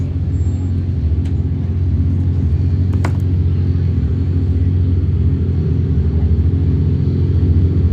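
A turbo UTV races past on a high desert lap in Powell, Wyoming, its engine a loud, constant low rumble that drones steadily throughout without voices.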